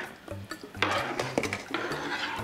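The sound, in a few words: spoon stirring vegetable pot pie filling in a pot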